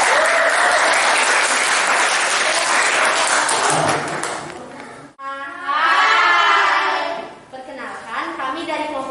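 A classroom of schoolchildren claps loudly for a presenting group, dense applause with shouting for about five seconds, then a pause and children's voices chanting together.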